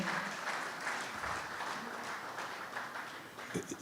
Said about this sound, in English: please, let's appreciate him. Let me hear you clap